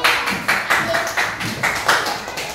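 A classroom of students claps in a steady burst of applause, close and fairly loud, with a rhythmic pattern of hand strikes running the whole time.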